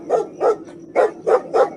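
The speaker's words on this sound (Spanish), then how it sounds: "no paraba de ladrar" A dog barking in a sound effect: five sharp, close barks in a quick, fairly even rhythm, loud and alone with no voices.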